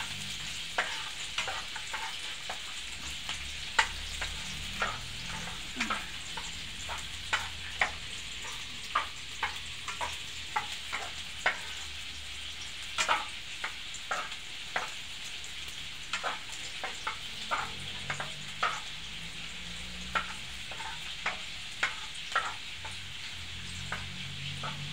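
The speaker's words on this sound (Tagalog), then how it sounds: "Pinigisa na po ang luya. Sunod, bawang." Ginger, then garlic, sizzles in an oiled pan for a sweet and sour dish, a steady frying hiss broken by frequent sharp clicks and scrapes from stirring, close and continuous for the whole span.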